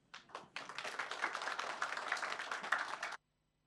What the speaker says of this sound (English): So once again, we will give a huge round of applause to the sister for wonderful power of visualization